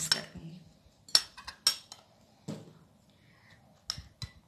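Spoon stirring cream fruit chaat in a bowl, a series of scattered sharp clinks and scrapes against the bowl with pauses between, fairly close, with a little talk.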